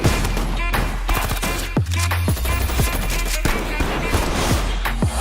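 Rapid bursts of gunfire crackle in a dense, rhythmic barrage over a busy cinematic mix in the Baby Driver film trailer, punctuated by sharp impacts and whooshes.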